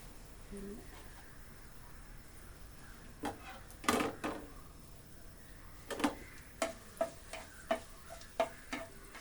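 Dried red chillies crackle in hot oil, giving a string of sharp pops that grow more frequent toward the end over a quiet background hiss.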